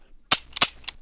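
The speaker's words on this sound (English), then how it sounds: "So I got this golden shotgun." A golden shotgun fires in a video game, three or four sharp, close cracking shots in quick succession within a second, with no talk.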